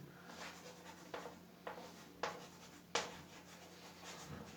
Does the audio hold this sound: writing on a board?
yes